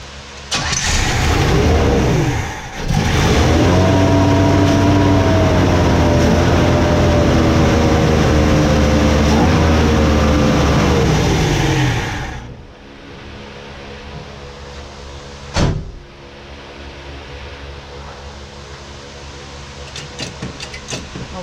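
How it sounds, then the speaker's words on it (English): A carburetor car engine fitted with a new spacer cranks and fires, then roars loudly with rising and falling revs for about ten seconds before cutting off, followed by quieter workshop noise and one brief clunk. "let's try to fire it up and see if there's any leaks"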